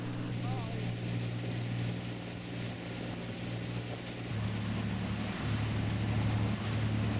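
A tour boat's engine drones steadily as it slows into the harbour at Bol, Croatia, a low throbbing hum whose pitch shifts slightly as the boat comes in, with wind and rushing water over it throughout.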